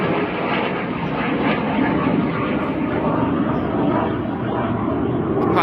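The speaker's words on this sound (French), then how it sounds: "Excusez-moi, il y a un avion." An airplane passes overhead, a steady loud broadband engine roar that fills the whole clip without fading, with no talking over it.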